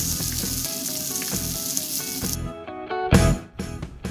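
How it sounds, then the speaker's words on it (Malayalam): Spicy chicken sizzles loudly on an oiled grill pan over a high flame, a crackling hiss that drops away and then returns with a metallic clatter and renewed spitting. "ഗ്രിൽ പാനിൽ ഒരല്പം ഓയിൽ അപ്ലൈ ചെയ്തതിന് ശേഷം നമുക്ക് ഇതൊന്ന് ഗ്രിൽ ചെയ്തെടുക്കാം"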